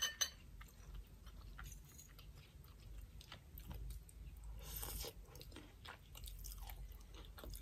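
Close, soft chewing of crunchy fried shallots topping spicy geprek chicken instant noodles, with irregular crisp bites and wet mouth sounds, faint and intimate, no talking.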